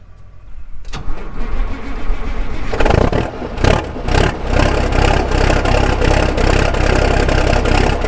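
A farm tractor's engine cranks over and catches, then settles into a steady, loud, close rumbling idle while warming up before planting work, with no talking.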